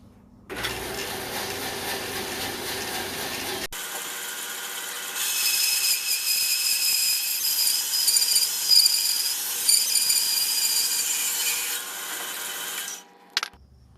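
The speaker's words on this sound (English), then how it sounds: "I'll take this over to the bandsaw and cut about a 4-inch piece off of it." Bandsaw cutting through a piece of cherry wood, a steady loud whine and rasp that starts, runs for several seconds with the blade biting harder midway, then stops abruptly.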